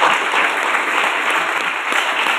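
Audience at a Safe Shop leadership training session applauds steadily, a dense wash of many hands clapping loudly and evenly throughout with no pauses.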